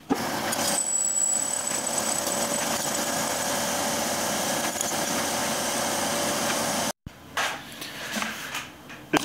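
A minilathe cuts a stainless steel test bar with a continuous, loud whirring machine drone and a faint high whine, broken by a sudden stop and then a few uneven clatters.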